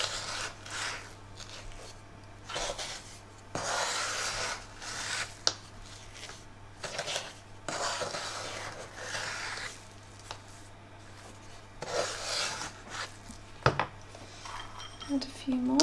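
Nan khatai dough being folded by hand in a metal bowl, with soft scraping, rubbing and occasional light clinks of utensil against the bowl, close and moderately quiet, in irregular bursts.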